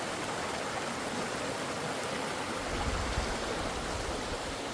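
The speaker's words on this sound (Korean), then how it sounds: "이곳에서도 아주 시원한 아, 계곡 소리가 들리고 있습니다" A cool mountain stream rushes steadily near Seseok bridge on Jirisan, a dense continuous broadband water roar that swells slightly stronger in the low end partway through, with no voices.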